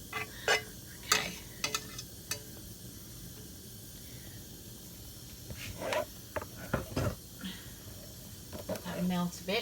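Plant-based butter melting in a hot pan, a soft hiss with scattered sizzling crackles and a few sharp clinks, growing busier toward the end, with some talk.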